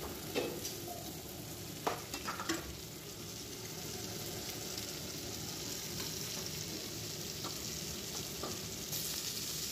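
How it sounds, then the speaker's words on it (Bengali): Steady sizzling of onions and green chillies frying in a pan, with a few brief stirring clatters near the start, continuous and fairly close without any talking. "পেঁয়াজটা ভাজা প্রায় হয়ে গেছে।"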